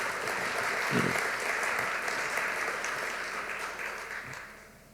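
An audience at a home design awards event breaks into sustained applause, a dense wash of clapping that swells at first and slowly tapers off.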